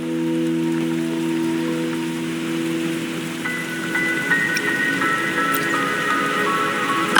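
Rain falls steadily in the video game Wuthering Waves, a soft continuous patter under a sustained tonal game soundtrack.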